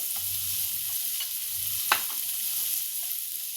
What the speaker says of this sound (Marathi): त्यांना परतून घ्यायचे लसूण आलं